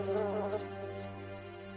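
A bee buzzing in a field in southern France, a close, steady droning hum that holds evenly throughout, with no voices.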